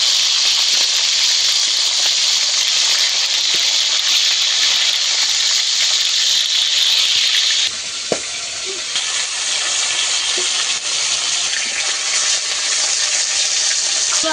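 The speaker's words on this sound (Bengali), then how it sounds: "এই মাছগুলো তেল প্রচন্ড পরিমাণে গরম হওয়ার পরেই মাছগুলো দিতে হবে।" Fish frying in very hot oil, a loud continuous sizzle and hiss that softens slightly midway after a brief clatter, with no speech.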